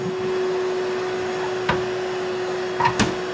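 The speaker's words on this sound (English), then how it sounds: "we got someone unceremoniously running the vacuum while I'm trying to make a video." A vacuum cleaner runs in another part of a home with a steady whirring hum, joined by a few brief knocks and clatters nearby.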